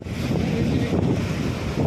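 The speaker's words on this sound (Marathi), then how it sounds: "हे बघा लाटा लाटा लाटा." Sea waves surge at high tide on a Konkan shore, a continuous roar buffeted by strong wind across the microphone over a short stretch.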